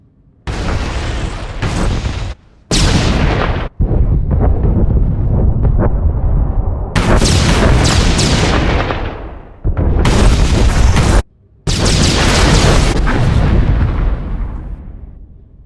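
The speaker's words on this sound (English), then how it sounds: "Captain, you and your men may fire when ready." A Star Wars video game battle roars with heavy blaster and artillery fire in long, loud, dense volleys broken by brief silent gaps, with booming impacts throughout and no speech.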